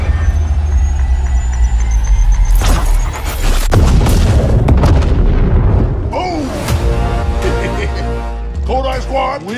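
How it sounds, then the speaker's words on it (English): Loud grenade explosion in the battle royale game Apex Legends, a heavy boom surrounded by gunfire-like bursts and dense in-game action noise, with voices talking over the chaos. "Grenade."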